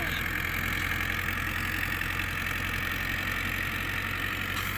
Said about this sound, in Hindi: चल बस भाई स्टार्ट हो गया जी, ट्रैक्टर स्टार्ट हो गया